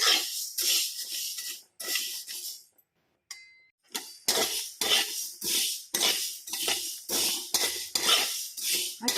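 Fenugreek seeds dry-roasting in a pan are stirred in rhythmic, loud scraping strokes close by, each a quick gritty rasp, with a short pause partway through.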